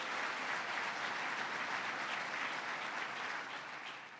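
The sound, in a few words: applause for a guest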